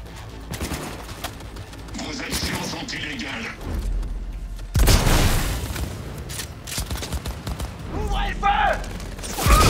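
Sawed-off shotgun fire in Cyberpunk 2077, heavy booming blasts landing irregularly across a busy combat mix, with one especially loud shot near the middle and voices underneath.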